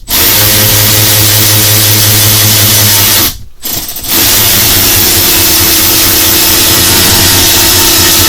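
A power tool drives stubborn lag bolts, a loud, steady motor whine running for about three seconds, breaking off briefly, then resuming at full strength.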